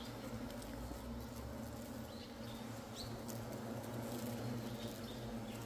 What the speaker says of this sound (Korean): 지금 홍말벌들이 먹을 걸 찾고 있어요